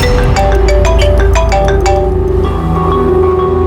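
A phone ringtone plays loud and close, a bright electronic melody of repeating notes that fades out near the end.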